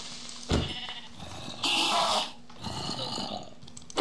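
Two drawn-out sheep bleats sound in the Minecraft video game, separated by short pauses with light background noise.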